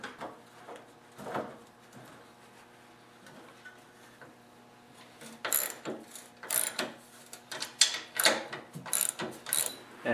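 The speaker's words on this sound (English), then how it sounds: "Now you want to line up the bushings to the holes and put in the bolts." Bolts going into a snowblower auger gearbox housing: clicking ratchet strokes and metallic rattles in scattered bursts, sparse at first and then denser and louder in the second half, close up without talk.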